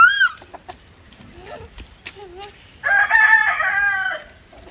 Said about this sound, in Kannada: ಇವಾಗ ಕೋಳಿ ಎಲ್ಲ ಹಿಡಿತಿದ್ದಾರೆ